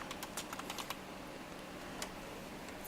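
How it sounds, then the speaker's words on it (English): Quiet keystrokes on a computer keyboard tap out a web address in quick irregular bursts, with a short pause before a few final keys, close and soft with no talking. "you can either directly type the URL, which would be something like that"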